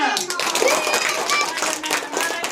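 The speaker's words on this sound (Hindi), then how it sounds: "नैना के लिए जोरदार तालियां।" Schoolroom audience claps for a prize winner at an annual result day and farewell event, brisk hand clapping under children's chatter and a voice speaking.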